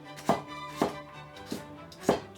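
Four crisp knife chops on a cutting board as celery is finely cut for an Italian soffritto, evenly spaced and close, with no talking.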